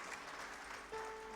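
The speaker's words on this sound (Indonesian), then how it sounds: "Kasih tepuk tangan buat Tuhan kita." A church congregation applauds during a sermon, a brief wash of clapping at moderate distance, fairly faint, with a short tone entering near the end.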